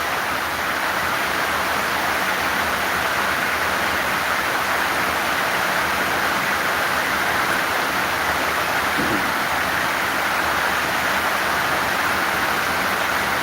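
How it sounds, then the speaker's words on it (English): Heavy rain falls in a constant loud roar at a Morocco versus Comoros football match, a thick steady wash of noise throughout with no voices over it. "Oh, it's raining so bad."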